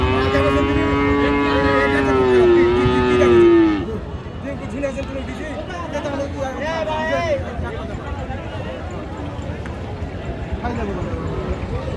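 Cattle at a crossbred and Friesian bull-calf market in Raniganj, Dinajpur, with one loud, long, drawn-out moo close by, then a busy crowd of voices and livestock noise carrying on around it.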